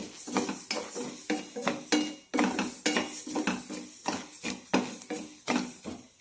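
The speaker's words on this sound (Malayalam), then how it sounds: "നന്നായി ചൂടാകുന്നവരെ വറുത്തെടുക്കാം." Washed, dried ragi being dry roasted in a pan, heard as a close series of sharp metallic scrapes and clinks as a utensil stirs the grain. The strokes are irregular and repeated, with no talking.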